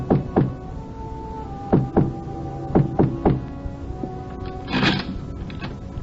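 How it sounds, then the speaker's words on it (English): Knocking on a door as a radio drama sound effect: several quick pairs of solid knocks spaced across a few seconds, close and distinct over a low steady hum, with no one speaking. "And then we came to a door, and Eileen knocked."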